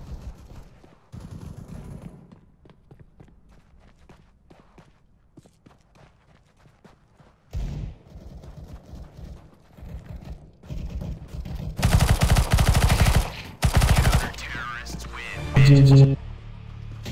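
Counter-Strike: Global Offensive gunshots: sparse shots and footsteps early on, then loud clusters of rapid fire in the second half, with players talking throughout.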